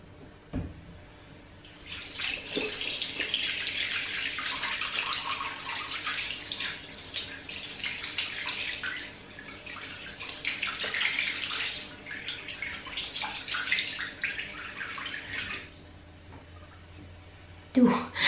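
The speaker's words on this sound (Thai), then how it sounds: "เป็นคนชอบแต่งหน้าก็ต้องขยันล้างต้องขยันถูๆนะคะ" Makeup brushes being washed and scrubbed under a running tap, a steady hiss of flowing water that swells and fades over long stretches, with a brief knock at the end.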